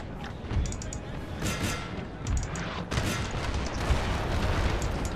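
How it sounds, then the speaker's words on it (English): Artillery and gunfire from a Napoleonic battle in the video game Napoleon Total War, a steady dense battlefield din with repeated booms and crackling volleys, with a voice talking over it. "The artillery doing a good job for me."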